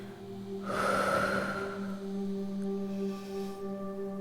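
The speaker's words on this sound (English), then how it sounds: "Breathing." A slow yoga exhale during a beginner's class, a soft, breathy rush of air lasting about a second over a steady background hum.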